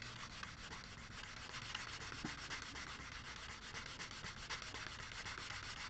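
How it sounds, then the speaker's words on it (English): Sandpaper rubs steadily over a small wooden shim for a guitar neck on a workbench, a continuous close, soft scratchy abrasion with no voices. "I always have a piece of sandpaper here on my bench for little sanding jobs like that."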